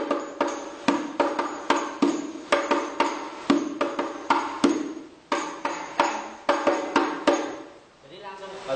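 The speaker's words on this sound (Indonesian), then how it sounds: "Kalau disatukan dengan pukulan naik bunyinya seperti ini." A hadroh frame drum is struck in a steady pattern of sharp, ringing slaps that mix pause strokes with rising strokes, loud and close, before a brief trailing stop.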